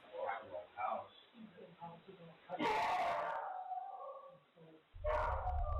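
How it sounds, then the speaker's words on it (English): A dog barks and howls in a spooky video playing back, with a loud roaring burst partway through and someone talking over parts of it. "That's a dog."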